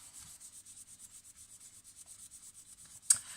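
A cloth rubs polish onto turned wood in a fast, soft, rhythmic swishing, quiet and close, ending in a brief sharp scrape or knock.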